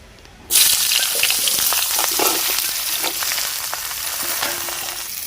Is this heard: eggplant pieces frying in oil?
yes